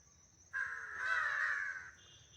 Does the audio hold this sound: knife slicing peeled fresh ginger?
no